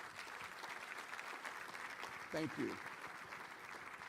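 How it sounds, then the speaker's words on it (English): Audience applause at a city state-of-the-city address, a room of listeners clapping steadily at moderate volume while a speaker briefly talks over it. "give them a round of applause."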